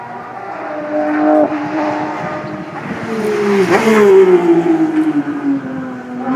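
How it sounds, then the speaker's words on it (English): Audi R18 e-tron quattro diesel Le Mans prototype running at a motorsport festival, its engine note loud and close, holding a steady drone before rising and sweeping through a revving pass, with no voices over it. "the Audi e-tron Quattro R18 diesel. They're usually on static display in front of the house, but here it is actually running."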